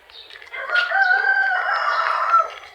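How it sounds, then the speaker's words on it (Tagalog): A native rooster among backyard farm chickens gives one loud, close crow lasting a couple of seconds, heard alone without talk. "ito naman yung ating mga alagang manok dito"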